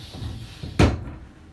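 A cruise ship cabin shower door on a Royal Caribbean Oasis of the Seas swings open with a soft rumble, then a single sharp clack near the microphone, followed by quiet.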